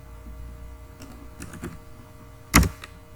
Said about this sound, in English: we will simply type here